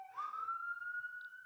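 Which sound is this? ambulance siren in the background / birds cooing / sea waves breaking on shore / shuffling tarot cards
ambulance siren in the background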